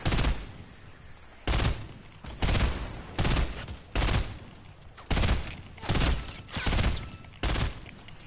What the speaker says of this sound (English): See, that's that Call of Duty shot.